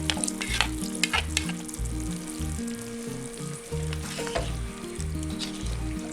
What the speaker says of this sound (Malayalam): ഇനി ഇതിലേക്ക് നമുക്ക് ചെമ്മീൻ ചേർക്കാം.